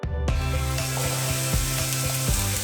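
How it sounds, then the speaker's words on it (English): Onions and peppers sizzle and fry in a hot pan, a steady dense crackle with a repeated low scraping or clacking rhythm as they are stirred, close and loud with no talk. "we'll start frying the onions and the peppers together"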